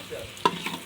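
Potatoes sizzle softly in frying oil while being stirred, with one sharp utensil scrape against the pan in the middle of a brief, quiet burst.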